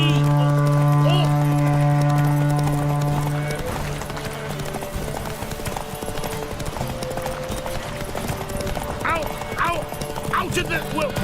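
In The Witcher 3, Roach the horse breaks into a gallop with rapid, rhythmic hoofbeats under a swell of music. The steady clip-clop carries on after the music thins, with faint voices and effects around it.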